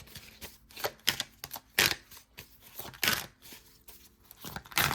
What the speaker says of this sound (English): That's why I'm like shuffling.